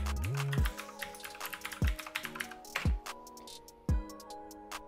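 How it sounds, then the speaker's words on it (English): Quick keystrokes on a computer keyboard as a web address is typed into a browser's address bar, light clicking set against steady background music with no voice. "So in the address bar, we'll type in boinc.bakerlab.org."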